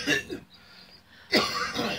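Two short, harsh coughing bursts close by, separated by a brief quiet pause.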